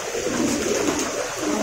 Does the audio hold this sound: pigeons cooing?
yes